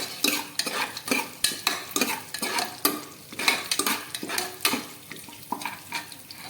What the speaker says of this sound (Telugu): కుక్కర్లో ఆయిల్ వేసి బాగా కాగాక మసాలా దినుసులు అయితే వేసుకోవాలి. వేసుకొని ఒకసారి బాగా ఫ్రై చేసుకోవాలి.